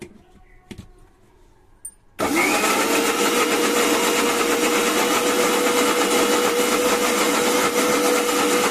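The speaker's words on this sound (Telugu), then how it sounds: "మిగిలిన టమాటాలు కూడా మిక్సీ వేసేసుకొని మిక్సీ పట్టేద్దాం" After a brief quiet stretch with a faint click, a mixer grinder grinding tomatoes for pickle roars on and runs at a loud, steady, high-pitched whine.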